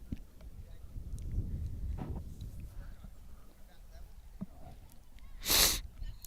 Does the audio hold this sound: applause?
no